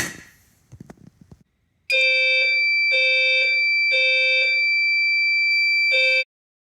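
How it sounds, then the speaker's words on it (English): A building fire alarm system goes off after a manual pull station is activated, giving loud, steady electronic horn blasts in a pulsing pattern of four bursts with short gaps, preceded by a brief rustle and clicks. "That's the point that the fire alarms have been activated and the system is sounding the devices"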